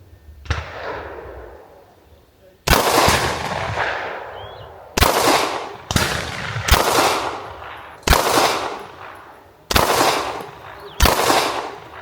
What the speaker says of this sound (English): I'm gonna take this shot down to top right corner here and shoot a 5-shot group.